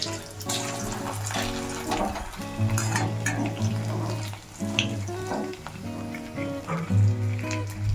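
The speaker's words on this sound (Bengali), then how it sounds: "আর এই আলুর পাঁপড়গুলো আছে, এগুলোই কিন্তু আজকে ভাজবো" Potato papads frying in hot oil, a bubbling sizzle under a busy background with intermittent tonal music-like sounds and clatter, moderately loud throughout.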